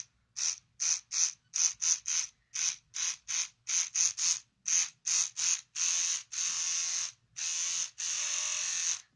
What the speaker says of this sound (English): Electric toothbrush makes this sound.